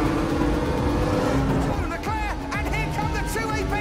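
Race cars in a film pulling away at the start of a race, a loud roaring mix of engines with rising and falling revs and passing whooshes, thick and continuous throughout.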